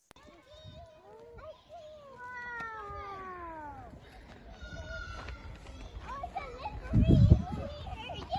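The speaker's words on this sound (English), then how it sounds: "you'll hear the kids outside the house, you know, all excited about it" Excited children's voices shouting and chattering outdoors, rising and falling with high squeals, growing louder toward the end.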